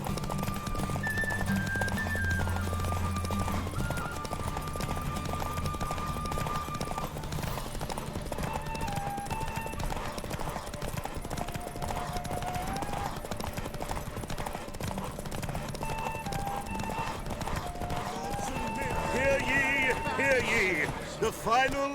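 Horse galloping in a derby race in the video game The Witcher 3, a rapid steady clip-clop of hooves under game music, with voices speaking over it.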